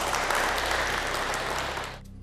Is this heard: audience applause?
yes